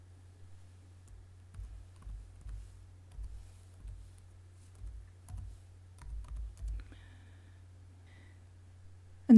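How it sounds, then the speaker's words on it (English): Soft, close key taps on a computer keyboard come in short irregular runs with pauses, over a low steady hum in a quiet room. "And now I simply click on my canvas and type the text."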